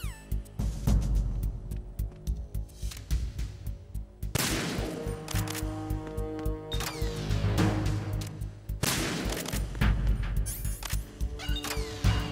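USP pistol shots at sensors in the Metal Gear Solid 2 tanker holds, three sharp cracks spaced several seconds apart, each ringing out over a steady hum of game music and ambience.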